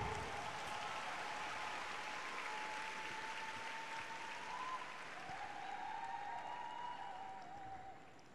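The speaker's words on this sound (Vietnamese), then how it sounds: "Các bạn hãy một tràng vỗ tay thật lớn" An audience applauds at an event in the Vietnamese highlands, a steady, moderately distant wash of clapping that fades slightly near the end.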